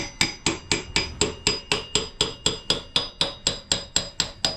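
A hammer strikes the metal rear wheel rim of a 2001 Kawasaki Vulcan Nomad 1500cc motorcycle in a steady, rapid series of about twenty sharp taps, close and ringing, with no talking.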